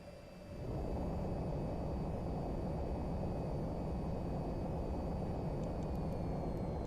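Steady, loud jet engine roar from a fighter jet landing on a runway in VTOL VR, swelling up in the first second and then holding a constant broadband rumble with faint high whine throughout.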